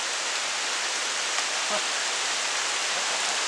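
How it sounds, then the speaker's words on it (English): Rain falling outdoors makes a steady, even hiss that fills the whole stretch, with a person briefly making a small sound. "Looks like it's going to start raining on us."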